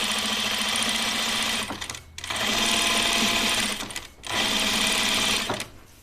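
A sewing machine running a 1/4 inch topstitch along a button-up shirt pleat, heard as steady, close, rapid mechanical whirring in three long runs separated by short pauses.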